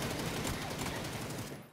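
Rapid gunfire in PUBG, a dense burst of close shots rattling in quick succession before cutting off, with no speech over it.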